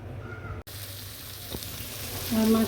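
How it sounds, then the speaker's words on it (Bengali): Fish frying in hot oil: a low, continuous sizzle with a brief cut-out and a single click, then a short tonal sound near the end. "মাছটি এখন আমি ভাজবো।"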